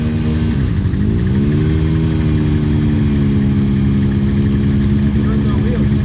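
A RZR off-road side-by-side crawls through creek mud, its engine droning steadily and loud throughout with a low mechanical rumble, shifting pitch briefly as the load changes.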